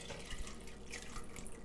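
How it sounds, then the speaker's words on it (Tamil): Water pours steadily into a pan of dry pasta on a stove, a continuous splashing, running-water sound close by with no talk. "இப்போது அடுப்பில் ஒரு தவாவை வச்சு பாஸ்தாவை அதில் போட்டு அது முங்குற அளவுக்கு தண்ணீர் நல்லா ஊற்றிடுங்க"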